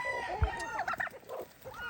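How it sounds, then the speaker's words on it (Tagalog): Chickens and turkeys cluck and gobble nearby in a short burst of overlapping poultry calls. "Yan, yan yung ating mga alagang manok, yung ating mga alagang pabo."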